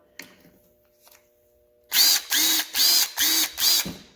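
A Snap-on CT761 cordless power tool runs in five short, loud bursts of motor whine, each trigger pull separated by a brief gap, after a few quiet clicks of handling.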